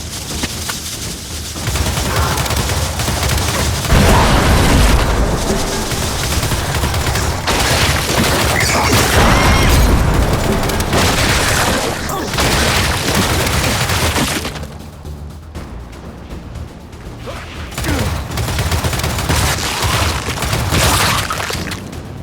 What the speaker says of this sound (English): Spin those turrets around!